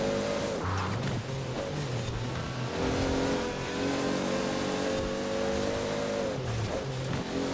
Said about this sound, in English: I really love the sound of the car. The engine is so nice. The 2JZ engine.